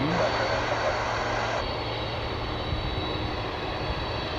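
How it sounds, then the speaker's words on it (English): A UPS Boeing 757 cargo plane arriving at DFW airport, a continuous jet engine roar with a high whine that drops away after about a second and a half, leaving a steady rumble. "And we have another UPS flight here. That's coming in from Tulsa to 757."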